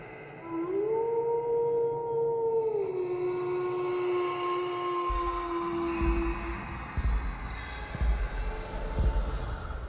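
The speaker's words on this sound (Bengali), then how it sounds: "দূর থেকে বনের মধ্যে অজানা পাখি আর শেয়ালের ডাক শোনা যাচ্ছে" A long, wavering jackal howl carries from a distance through a forest at night, rising and sliding down, then gives way to scattered crackles and rustling.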